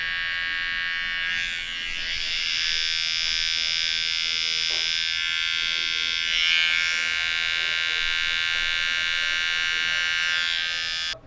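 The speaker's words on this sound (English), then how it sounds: "That's all razor work." Electric razor or trimmer cutting lines into hair and a beard, a steady close buzz that swells and fades slightly as it moves across the head.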